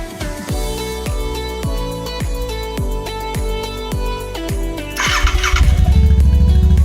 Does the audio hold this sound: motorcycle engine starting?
yes